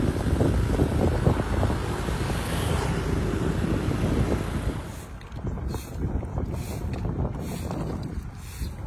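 Motorcycle ride picked up by the internal microphone of an iPhone 12 Pro Max mounted on the bike, mostly steady loud wind buffeting over a low engine rumble that eases slightly midway.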